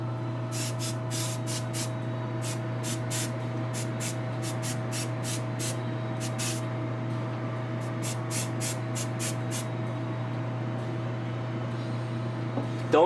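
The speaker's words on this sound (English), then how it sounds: "spraying it nice and even, I guess." An airbrush sprays a wash coat onto Black Lantern Wonder Woman armor in a steady, even hiss, cut by repeated short bursts of higher spray over a constant compressor hum.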